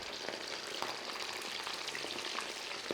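Pork chop meat frying in a very hot pan, a dense continuous sizzle and crackle with scattered pops, close and steady throughout.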